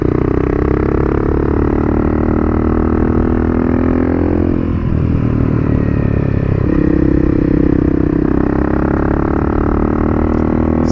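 A Honda CRF250L motorcycle carves through banked, cambered bends on the Duke's Pass road near Loch Katrine. Its engine drones steadily and close, with a brief dip and recovery in tone midway through, and no one speaks.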